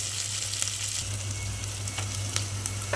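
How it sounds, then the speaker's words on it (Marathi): Chopped onion fries in a pan until reddish for masale bhaat, with a steady, close crackling sizzle and a few light stirring clicks, alone without talk. "कांदा लालसर भाजून घ्यायचा"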